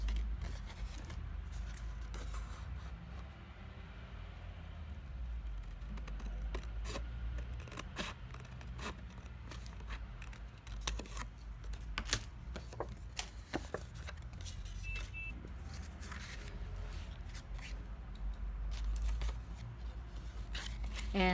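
Scissors snip through card stock to cut out pieces for a winter porch easel card, giving a quiet series of irregular close crisp cuts and paper rustles, with no speech over them.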